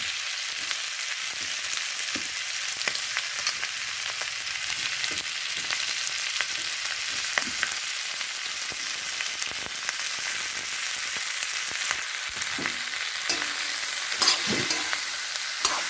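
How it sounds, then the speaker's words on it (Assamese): Steady close sizzling of pork frying in a pan with spices, with scattered pops and occasional scraping as it is stirred. "মাংসখিনি ভাজি ল'লোঁ"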